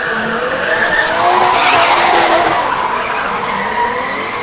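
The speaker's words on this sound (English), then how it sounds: "both of the vehicles drifting through the track" Two drift cars sliding sideways through a race track at a Southeast Asia Drift Series event in the Philippines, with loud continuous tire squeal over roaring engines, close and sustained throughout.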